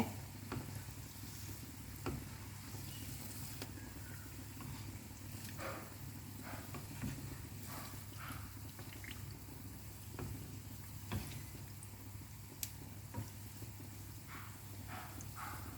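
Oil sizzles and crackles steadily as athirasam, a sweet, fries in a pan, with occasional stirring scrapes and pops over a low continuous hum.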